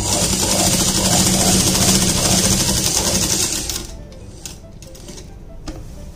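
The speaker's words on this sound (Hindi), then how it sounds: "और फिर हम इसको सीधी सिलाई लगाएंगे। ये सीधी सिलाई हमको इस कट तक लगा के लानी है।" Sewing machine running a straight seam on palazzo fabric, a loud steady mechanical whirr for about four seconds that stops abruptly, leaving quiet handling clicks.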